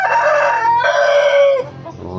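A Shamo rooster crows loudly and close by, one long strained call with a rising then falling tone that breaks off abruptly.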